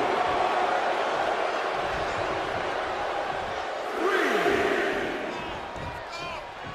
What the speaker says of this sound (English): she is feeling the electricity from the crowd now.